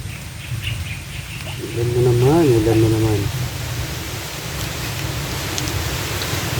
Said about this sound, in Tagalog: Ayan, ulan na naman